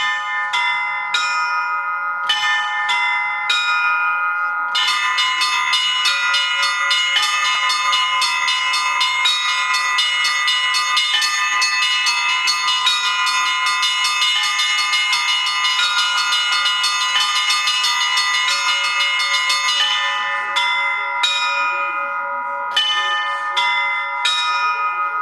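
Church bells rung at a bell-ringer school ring out loud and close in a continuous peal of overlapping strikes, with sparser single strokes at the start and end and no talk.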